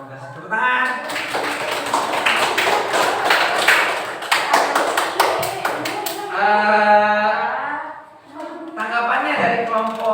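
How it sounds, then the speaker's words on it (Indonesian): Children in a classroom clap their hands in a dense burst of applause lasting several seconds, mixed with young voices talking and calling out over and after it. "Tepuk tangan."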